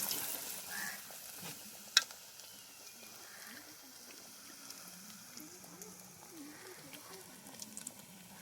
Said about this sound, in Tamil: இப்போ பஜ்ஜி போட்டுக்கலாம். பஜ்ஜி ரொம்ப பதமா வேவுது.